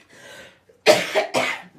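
A person coughs several times during an acrylic gouache painting session: a faint throat sound first, then two loud, harsh coughs close to the microphone, each bursting out and breaking off sharply.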